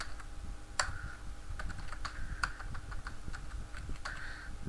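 Typing on a computer keyboard: quick irregular key clicks with a few sharper taps, close and clear throughout, with no talking over them.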